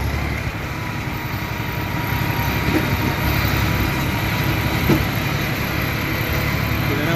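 A New Holland T3 75B tractor engine runs steadily at idle on a village forest job, a constant low diesel rumble with no talk over it.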